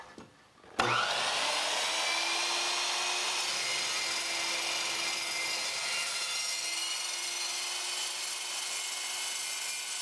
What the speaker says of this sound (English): let's get the chop saw fired up here and cut some material to size